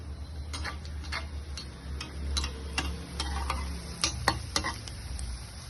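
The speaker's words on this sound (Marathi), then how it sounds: "आपण आता हे सर्व तळून घेऊया" Gulab jamun made from khoa frying in oil over a medium gas flame, a continuous close sizzle broken by repeated light clicks and taps from stirring, with no talking.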